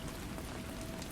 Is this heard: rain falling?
yes